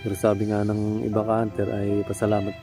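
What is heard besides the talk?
None of the usual background noises is heard.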